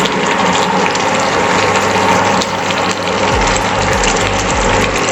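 Chicken roast for an Eid meal simmering covered in a pan, a steady close bubbling and watery hiss that runs without a break, with low clicks and rumbles underneath.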